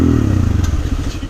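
A Hero Xpulse motorcycle, just pulled from deep muddy water on a trail, coughs into life with a loud, close, rough idle and uneven sputtering clatter that settles into a steady low putter.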